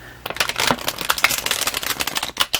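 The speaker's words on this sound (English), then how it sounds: "shuffle them a few times, but not too much" Stiff tarot cards with plenty of snap are shuffled close up, giving a rapid, continuous run of crisp riffling clicks and flutters throughout.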